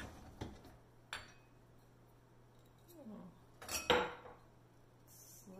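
Glasses and dishes in a Samsung dishwasher clink and clatter as they are handled after a full cycle: a few isolated taps, then a louder cluster of glassy chinks, all fairly close over a faint hum.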